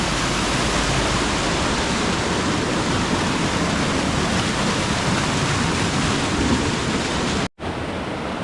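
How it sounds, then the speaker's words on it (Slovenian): A small waterfall tumbles along the Ukanška Suha stream in Bohinj, Slovenia, producing a steady, loud, broadband rush of falling water that holds constant throughout and then cuts off abruptly near the end. "Poglejte, kakšen čudovit majhen slapič, kakšne čudovite kaskade pričara Ukanška Suha."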